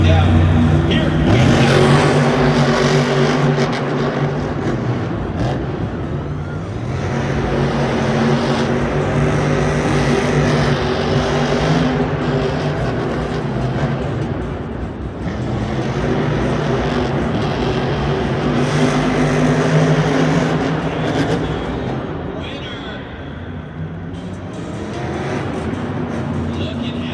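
Monster trucks roar around a Monster Jam racing course in a US Bank Stadium event, the JCB Diggatron among them, engines loud and sustained with rising and falling revs that swell and fade over a crowded arena ambience.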